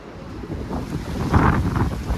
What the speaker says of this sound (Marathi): मित्रांनो एवढा हवा येतोय की म्हणजे मागे खेचताय